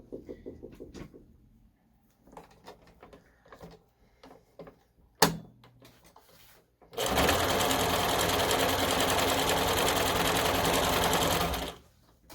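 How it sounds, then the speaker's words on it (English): Sewing machine stitching the back of a Wednesday Addams dog costume: a few soft handling clicks and a sharp knock, then a loud, steady mechanical whir that runs for several seconds before stopping. "So now I'm going to sew on the back side."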